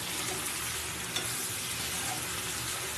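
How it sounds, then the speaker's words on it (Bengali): Food frying in a pan on a gas stove while being stirred, giving a steady, close sizzle with a faint watery hiss throughout and no voices. "ভালো করে একটু কিছুক্ষণ ধরে ভাজা হোক, আমি একটু ঢাকা দিয়ে দেবো"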